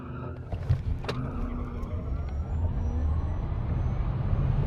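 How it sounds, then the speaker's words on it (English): A gray Dodge Charger launches at a Tucson street drag race event, its tires struggling for traction, heard as a sustained car roar with a brief squeal early on amid a noisy crowd setting. "I could hear him peeling out."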